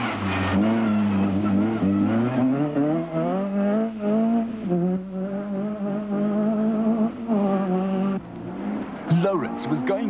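A Ford rally car at speed on a forest stage, rear window shattered, its engine note rising and falling through gear changes and held loud and steady for about ten seconds, with brief clatter near the end.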